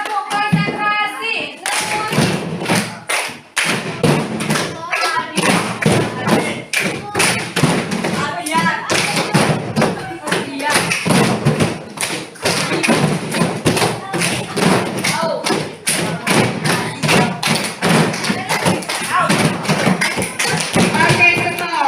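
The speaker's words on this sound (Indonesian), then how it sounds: "tepuk konsentrasi" A class of students does rhythmic concentration clapping, many hands striking together in quick patterned bursts with dense repeated claps and thumps, loud and close, with some voices mixed in throughout.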